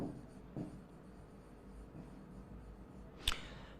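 Chalk or marker writing names on a classroom board during a maths lesson, a soft steady scratching with a sharper tap near the end, quiet and close with no talk.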